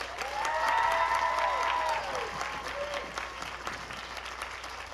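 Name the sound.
applause for graduation speakers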